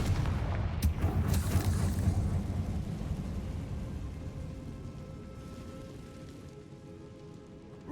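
A fiery Confringo spell explosion in Hogwarts Legacy, set in the Feldcroft catacombs, bursts sharply near the start and then trails into a long, crackling, hissing rumble that slowly fades over several seconds, with no voices.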